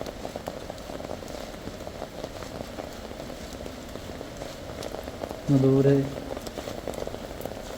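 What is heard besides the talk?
roar of the Akashaganga waterfall, Kolli Hills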